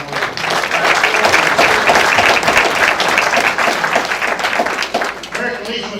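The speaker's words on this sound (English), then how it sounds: "Let's have a round of applause for our Marines" A banquet audience honoring Marines at a Veteran's Day event breaks into loud, sustained applause, dense clapping filling the room for several seconds before tapering off near the end.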